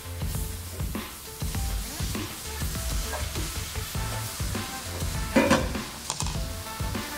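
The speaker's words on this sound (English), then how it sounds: "Now it is time for cabbage to go back in. Mush that around," Cabbage being stirred back into sizzling lentil dhal in a pan, with a steady frying hiss and repeated scraping and mixing strokes throughout, close and fairly loud, no talking.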